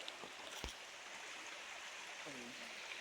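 Donut Stream flows along the Appalachian Trail near Katahdin in Baxter, a steady rushing wash of water heard outdoors, with a voice speaking briefly over it.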